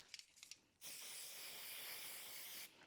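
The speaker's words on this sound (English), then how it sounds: "We make sure there's enough hairspray." Hairspray from an aerosol can sprayed onto curled hair in one sustained, close hiss lasting about two seconds, preceded and followed by faint handling clicks, with no talking.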